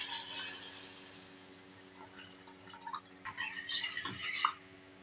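Water pours into a pot of fish in a home kitchen, a steady splashing stream that swells and bubbles for a few seconds over a constant background hum, then stops.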